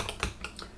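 Computer keyboard keys tapped in a few quick, separate strokes close by while entering a name during a Windows Server 2022 setup, sparse and moderately loud with no talking.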